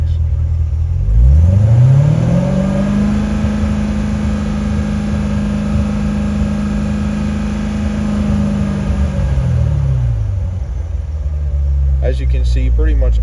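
Car engine of an Auto 240 revving up and then held steady at roughly 3,000 RPM for several seconds before dropping back to idle, a close, loud, even drone. A voice speaks briefly near the end.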